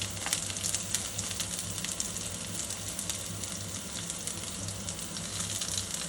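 Chopped green chillies and onion sautéing in a pan for an eggplant and banana stir-fry, making a soft, continuous sizzle with faint crackles and occasional light stirring, steady throughout.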